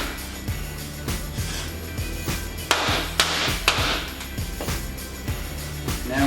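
Copper pipe hammered flat between two pieces of wood on a concrete floor, a steady run of sharp, close blows roughly twice a second with a few louder strikes mixed in.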